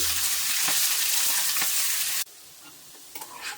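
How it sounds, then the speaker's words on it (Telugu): Nalleru stems frying in hot oil in a pan, a steady loud sizzle that runs for about two seconds, then drops abruptly to a faint crackle with a few small stirring bumps. "నల్లేరు కాడను వేసుకొని ఒక పది నిమిషాలన్నా ఫ్రై చేసుకోవాలండి"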